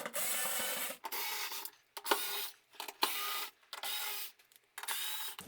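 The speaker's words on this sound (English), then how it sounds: "Now we're going to take all the screws off that go around the edges of this cover." Screws are driven out of the sheet-metal cover of a Hotpoint or Indesit tumble dryer, a close buzzing whir in several short bursts separated by brief pauses.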